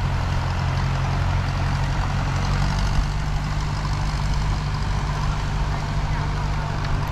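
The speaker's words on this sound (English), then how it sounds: "The gentleman's pulling a boat out there with the tractor." A tractor pulls a boat on a Sunday-morning beach at Jomtien, its engine a steady low diesel drone with a faint beep in the background, close and constant throughout.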